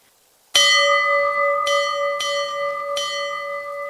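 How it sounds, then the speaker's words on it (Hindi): A large temple bell is struck three or four times, each loud clang ringing on with a long sustained hum between strikes. "मंदिर के घंटे को जोर जोर से बजाने लगी।"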